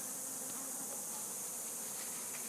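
Bees swarming around a hive inside a wall give a steady, dense buzzing drone that fills the whole stretch, fairly close, with no voices over it.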